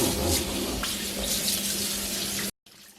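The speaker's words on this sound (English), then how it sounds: "Now you're going to rinse out the sink and repeat the process until you feel comfortable." Tap water runs steadily into a kitchen sink while beef intestines are rinsed, a loud continuous splashing rush that cuts off abruptly near the end, then resumes more quietly.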